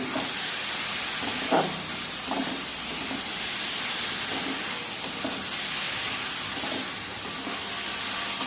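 Grated ginger and spices sizzle and hiss steadily in hot oil for a goat meat curry, a constant bright frying noise with a few soft stirring knocks, no voices.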